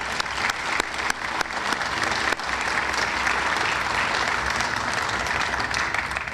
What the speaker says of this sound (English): let's give all of these volunteers a big round of applause